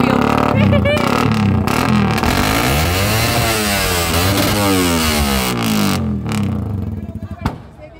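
Motorcycle with a loud aftermarket exhaust pipe, revved hard in repeated rising and falling bursts with a raspy roar, very close and loud, then settling into sputtering pops as it drops back to idle.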